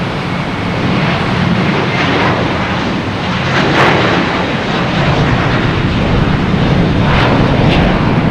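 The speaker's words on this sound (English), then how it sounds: "We have a JetBlue, an A321, heading to San Francisco, flight 333." JetBlue Airbus A321 jet bound for San Francisco taking off at night at Boston Logan Airport, a sustained loud roaring engine wash that swells and holds steady, heard from nearby without talk.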